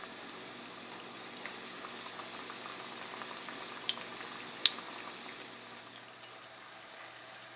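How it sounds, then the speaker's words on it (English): Pakoras, spiced gram-flour dumplings, frying in hot oil for Punjabi kadhi, a soft steady bubbling sizzle with a couple of faint pops, fairly quiet and close. "And fry them until they get golden brown color."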